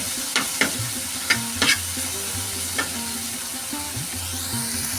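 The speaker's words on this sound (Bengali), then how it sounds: "মশলাটা একটু কষিয়ে নিলাম" Spices sautéing in a pan, sizzling steadily while a spoon scrapes and taps the pan several times in quick, uneven strokes.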